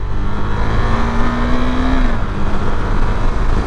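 A KTM Duke 390 BS6 motorcycle shifts up through its gears with the quick shifter, its engine drone loud and steady while the pitch rises and briefly dips at a shift.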